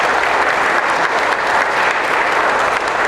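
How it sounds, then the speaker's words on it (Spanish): Loud, steady applause from a conference audience fills the whole stretch, dense and unbroken with no voices on top. "Les pido un fuerte aplauso para el maestro Mario Palma"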